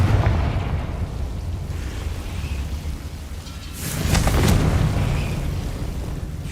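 Confringo, an explosive fire spell cast in Hogwarts Legacy, bursts as a roaring blast that swells suddenly over a low rumbling background and fades back out after about a second.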